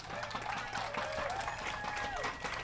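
Applause and clapping from a crowd at a Bassmaster Elite bass fishing weigh-in on Lake St. Clair, a brief steady patter heard under a voice talking over a PA.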